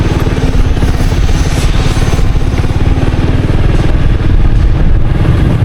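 Motorcycle engines and other vehicles run steadily and loud at a busy town market in Santa Ana, Cagayan, a continuous close idling and revving rumble with no talk.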